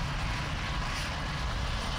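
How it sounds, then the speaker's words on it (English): A helicopter engine idles in the survival video game Hold Your Own, making a steady, dense mechanical drone with no pauses and no speech. "we could just leave the helicopter running for the few seconds it's going to take for to repair it"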